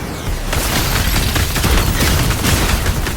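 A dense volley of video game gunfire erupts in a duel, rapid overlapping shots and booms crackling loudly and continuously after a brief quieter start.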